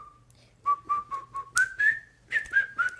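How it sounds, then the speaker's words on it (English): A person whistles a short tune up close in a series of clear, pure notes. The melody steps between pitches in a lively rhythm, with brief gaps between phrases. "That's actually I think the best whistling I've ever done in my life"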